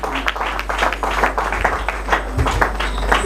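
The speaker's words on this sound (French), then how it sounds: "Sous vos applaudissements." Audience at a gala evening applauding steadily, dense clapping close up and sustained for several seconds without talk.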